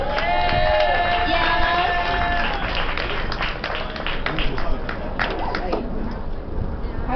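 A small crowd at a live open mic show claps and cheers for a performer, with continuous applause, whoops and crowd chatter under the noise, and some music or tones at the start.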